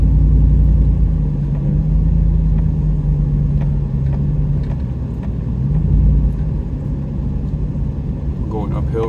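A car climbs a hill through a trailer park, its engine a steady low rumble under strain with road noise, heard from inside the vehicle throughout.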